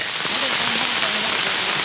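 Heavy rain pours steadily on a village homestead whose yard is flooding, a dense, unbroken hiss of drops close by with no gaps from start to end.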